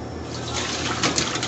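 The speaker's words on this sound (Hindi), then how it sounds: "सो ये पानी ड्रेन हो चुका है।" Water from boiled chicken pouring out as it is drained for a steam roast, a steady close splashing rush with no talk over it.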